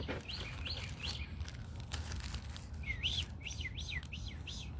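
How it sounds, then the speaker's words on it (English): A mockingbird sings outdoors, several short repeated whistled phrases in two bursts with a pause between, soft and somewhat distant over low background noise. "It's a mockingbird."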